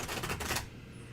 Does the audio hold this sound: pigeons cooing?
no